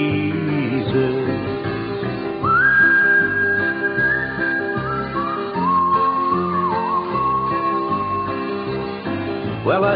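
Someone whistles the slow, flowing hymn melody "What a Friend We Have in Jesus" over soft instrumental accompaniment, the clear tone gliding between sustained notes.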